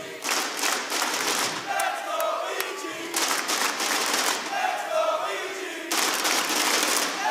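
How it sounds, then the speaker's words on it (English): A crowd at an esports event for the game Rainbow Six Siege builds a loose, rhythmic chant and cheer, with scattered claps and shouts filling the space while a commentator talks over it. "The crowd trying to get a reluctant cheer going."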